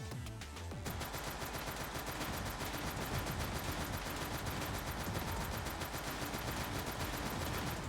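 Rapid, dense automatic gunfire from the video game Snezhinka: Sentinel Girls 2, a continuous loud stream of shots that starts after a brief lull and runs without a break.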